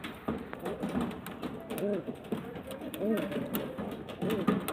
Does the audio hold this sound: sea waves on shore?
no